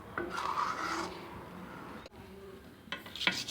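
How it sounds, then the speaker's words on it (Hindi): A spoon scrapes thickened milk cream from the sides of a pan while mawa peda cooks, giving short raspy rubbing strokes close up, then a pause and a few quicker scrapes at the end, with no talking. "इसकी मलाई को इस तरह से चम्मच की सहायता से खुरस खुरस के निकालते रहेंगे"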